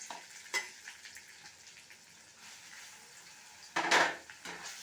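Chana dal and urad dal frying in oil in a pan, with a soft steady sizzle and a few sharp scrapes and clinks of a spoon stirring against the metal.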